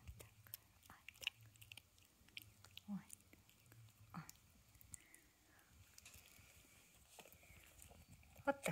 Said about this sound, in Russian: А так жует своими маленькими зубами.